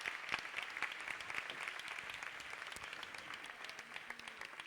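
An audience at a boogie woogie dance competition applauds, a dense, steady patter of many hands clapping at moderate distance for the whole stretch, fairly quiet overall.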